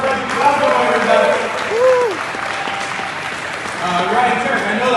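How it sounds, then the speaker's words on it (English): Audience applause at a live Toyota GR Corolla reveal, a continuous crowd clapping with cheers and voices talking over it, swelling near the start and again toward the end. "Let's give a round of applause for Frederick Cosgrove, everybody."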